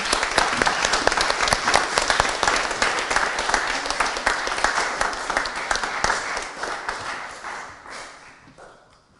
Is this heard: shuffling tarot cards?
no